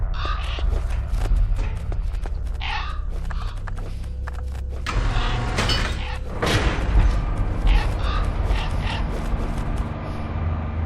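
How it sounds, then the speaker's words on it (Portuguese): Crows caw in Metal Gear Solid: The Twin Snakes, harsh repeated calls over a low droning game ambience, with a burst of rumbling, clattering noise partway through. "Olha os corvos do nosso amiguinho ali"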